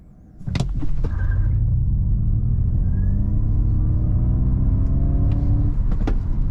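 A 490 hp Mustang Mach-E GT electric car accelerates hard on the Autobahn toward 206 km/h, giving a loud, steady road rumble with electric motor whine tones that climb gradually after a brief quiet start.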